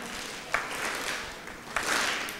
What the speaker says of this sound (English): Could you all stand, and we'll give you 3 claps as a group.